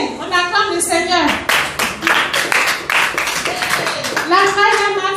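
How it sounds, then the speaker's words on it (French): A church congregation claps to acclaim the Lord, with irregular bursts of hand claps under excited voices and children calling out, loud and close. "Tiens, on acclame le Seigneur."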